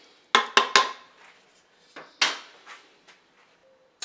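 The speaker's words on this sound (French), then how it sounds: "Vous mélangez." Rice and curry powder stirred in a Cookeo multicooker pot, giving three sharp utensil knocks against the pot rim followed by softer scraping clinks, close and loud with quiet gaps between.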